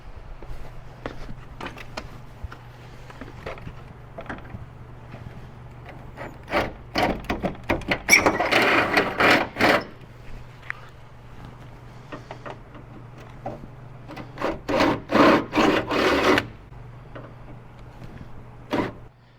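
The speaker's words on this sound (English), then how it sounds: "let's get those holes drilled and we're on our way" A power drill whirs in short bursts drilling holes in a metal bracket on a Ford Bronco, two longer grinding runs standing out over a steady low hum, with scraping and clunks between.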